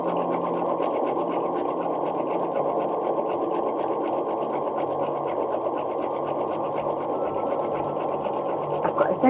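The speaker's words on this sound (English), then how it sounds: "just gently moving the fabric so it's quick machining and slow movement of your fabric" A sewing machine stitches fabric at quick speed in one continuous, close whirring run with a fast steady needle rhythm throughout.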